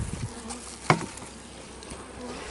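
Honeybees hum softly around an open double deep hive with supers, a low steady colony buzz with one brief sharp knock partway through and no talking.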